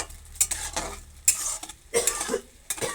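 Sugar stirred into thickening chutney in a pan: intermittent scraping and clinking strokes of a utensil at an irregular rhythm, close and moderately loud, with a faint sizzle between strokes and no talking.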